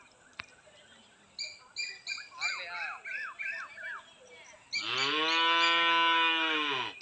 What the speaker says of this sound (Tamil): டைம் ஆச்சு, பால் கறக்கிறதுக்கு கத்த ஆரம்பிச்சிருச்சு.